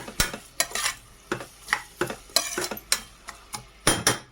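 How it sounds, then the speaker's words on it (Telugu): Onions frying with salt in a pan, a soft sizzle under a quick run of scraping and clinking strokes as a utensil stirs against the metal, close and busy throughout. "ఉల్లిపాయలు కూడా వేయించేసుకుందామండి. ఇందులోనే ఉప్పు ఫస్ట్ వేసి మగ్గించుకుందామండి."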